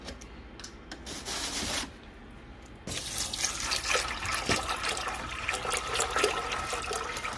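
Tap water runs and splashes into a soy milk machine's container, a steady pour that briefly quiets then resumes louder and fuller with close gurgling.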